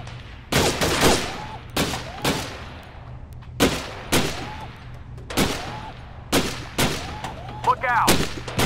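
Gunshots from the VR shooting game Gun Club VR, roughly a dozen sharp, loud broadband cracks fired singly and in quick pairs, each with a short decaying tail over a low steady hum; no talking.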